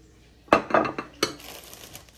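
Plates and saucers clink together in a kitchen, a few sharp ceramic knocks and rattles up close followed by a softer scrape as the dishes settle, with no talking.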